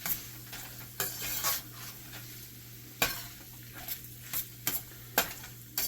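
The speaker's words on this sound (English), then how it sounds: "I'm going to keep stirring this until it's all incorporated." A sloppy joe mixture of cheese steak style meat is stirred in a pan, with repeated spoon scrapes and soft knocks against the pan over a low sizzle, close and moderately quiet with no talk.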